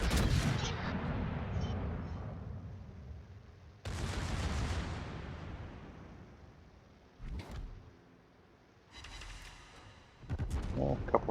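Naval gun shells fired in a warship battle video game, two heavy booming blasts, each decaying into a long rumbling tail, followed by a sharper crack and a burst of distant crackling near the end.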